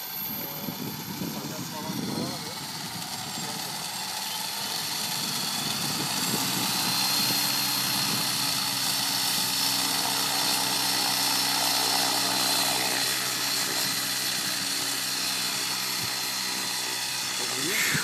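A model helicopter's rotor and engine whir steadily at moderate distance, a constant buzzing drone with people talking over it.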